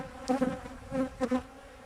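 Honeybees fanning near the hive after a split, a close buzzing drone that pulses in short uneven swells.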